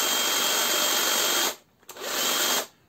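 A Parkside PHSA 20-Li A1 cordless hedge trimmer running with a high, steady buzzing whine, close and loud, cutting out briefly, then restarting for about a second before stopping; no talk.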